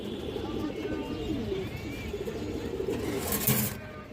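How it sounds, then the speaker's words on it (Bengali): A large old-line pigeon coos in low, rolling calls close by while a person talks over it. "পুরান লাইনের একটা বাগামাদি কবুতর বড় সাইজের মাশাল্লাহ চোখ"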